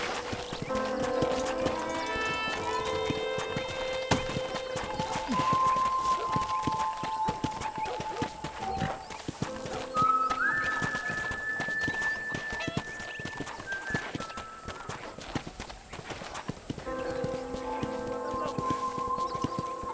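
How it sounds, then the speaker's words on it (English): Steady clip-clop of horse hooves walking at an even pace on a ranch in Red Dead Redemption, heard over layered game music and ambient tones. "I picked out a fine horse for you."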